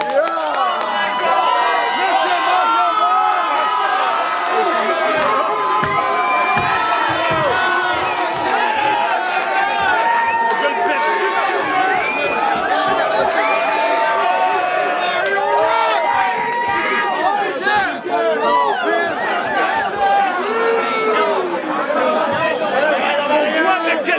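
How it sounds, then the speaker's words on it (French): Crowd noise at a French-language show, steady and loud for the whole stretch, with dense chatter and scattered cheers and shouts but no clear rhythmic clapping. "Mesdames et messieurs, une bonne main d'applaudissements pour le papa biologique de Joe Cash!"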